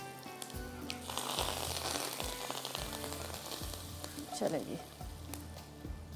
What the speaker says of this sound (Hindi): ये दाल के ऊपर मक्खन का तड़का